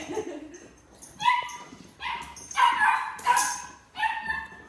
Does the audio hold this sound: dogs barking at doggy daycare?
yes